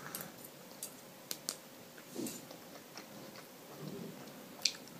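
Someone chewing a mouthful of spaghetti, with soft, close, irregular mastication clicks and wet smacks over about five seconds at low volume, and no talking.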